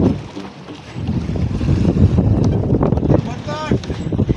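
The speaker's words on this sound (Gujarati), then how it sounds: "મસ્ત રીતે બોટ હાલે" A fishing boat out at sea, steady engine rumble mixed with wind buffeting the microphone and water washing past the hull, with people talking loudly over it.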